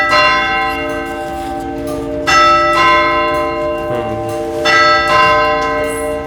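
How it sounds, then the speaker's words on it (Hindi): A bell in India's oldest clock tower chimes the hour, heard from inside the tower: loud, ringing strikes spaced about two and a half seconds apart, each leaving a long sustained hum, with a faint mechanical clunk between them. "मेरे सामने अभी 1 घंटा पूरा हुआ है और ये घड़ी ने जो साउंड निकाला है वो आपने सुन लिया"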